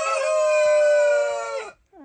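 A rooster crows once, one of eight roosters kept in a Trabzon yard. The call is a long, loud, close cock-a-doodle-doo held steadily for well over a second before it breaks off, with a second crow just starting at the end.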